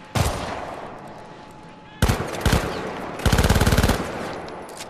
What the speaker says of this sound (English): Someone shooting near me over here.